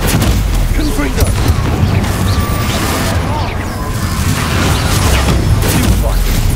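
Loud blasts and crashing from a Confringo fire-spell combat in Hogwarts Legacy, with rumbling booms and debris over continuous battle noise while a voice speaks over it.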